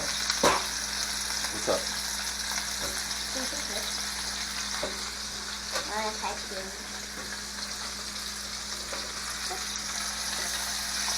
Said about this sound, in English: So you're browning them, melting the cheese a little bit, getting all the flavors in there